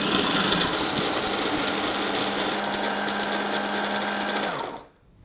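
A blender grinds pistachios into praline with a loud, steady motor whir and gritty churning close by, running continuously before the motor spins down and stops near the end.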